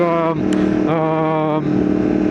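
A fuel-injected motorcycle with an Akrapovič exhaust whirs and drones as it tries to start, its steady tone wavering up and down in short surges, close and fairly loud.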